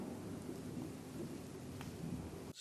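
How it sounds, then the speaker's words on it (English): Thunder rolling in a rural Texas setting, a low rumbling crackle under faint rain that cuts off abruptly after a couple of seconds, with no talk. "can you hear the thunder?"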